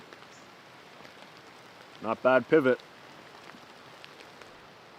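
Steady light rain pattering at a camp on a rainy night, a soft continuous hiss with faint drips, and a brief spoken phrase in the middle.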